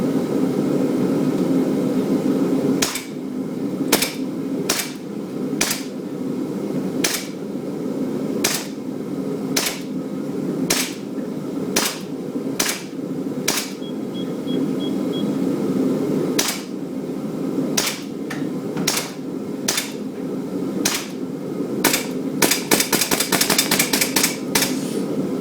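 A WE 1911 full-metal gas blowback airsoft pistol fires 20-gram BBs: sharp, separate cracks spaced a second or two apart, then a quick burst of shots near the end, with no voices.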